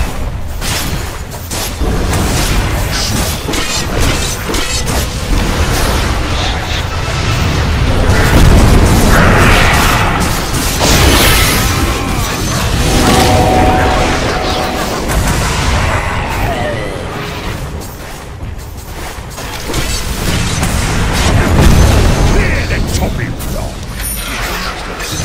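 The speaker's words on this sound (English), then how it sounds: "Your top tower is under attack." Dota 2 battle at a tower under attack: dense, continuous game combat with layered impacts, bursts and mechanical clatter throughout, loud and busy, with announcer-style voice lines mixed in.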